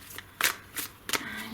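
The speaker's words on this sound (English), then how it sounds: "So I'm just going to give it a quick shuffle." Tarot cards being shuffled by hand in a few quick riffling bursts, close and fairly quiet, with short pauses between the flurries.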